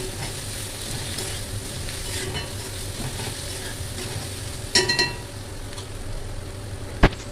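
Potatoes and paneer fry in a pan with turmeric, salt and sugar, a steady close sizzle with stirring scrapes, a brief cluster of utensil clinks midway and one sharp clink near the end.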